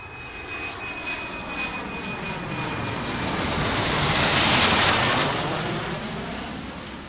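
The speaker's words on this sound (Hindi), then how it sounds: "कैप्टन सभी रूटीन चेक कंप्लीट करने के बाद इंजन को फायर करते हैं और फ्लाइट 236 लिस्बन जाने के लिए रवाना हो जाती है" An airliner's jet engines spool up as flight 236 departs for Lisbon, a broad steady roar that swells toward the middle and eases slightly, with faint high whines above.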